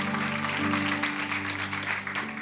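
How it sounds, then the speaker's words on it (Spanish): A church congregation applauds for Christ during a Spanish-language service, a sustained wash of clapping with an organ or keyboard chord holding underneath, fairly even in level throughout. "Denle ese aplauso fuerte a Cristo"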